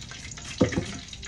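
A whole chicken lowered into hot oil for frying, a brief sharp sizzle and spatter bursting out once and quickly fading, close and loud against a faint background hiss.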